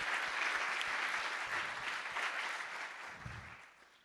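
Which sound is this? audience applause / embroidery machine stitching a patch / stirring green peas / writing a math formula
audience applause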